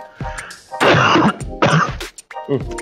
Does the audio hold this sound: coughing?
yes